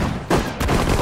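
Rapid infantry gunfire bursts in the World War II strategy game Sudden Strike 4, D-Day mission, loud and close, a few sharp volleys packed into a second with no talk.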